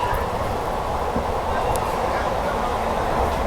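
The 12347 Sahid Express runs at full speed, heard from inside as a steady, loud, unbroken rumble and rush of the moving coach throughout.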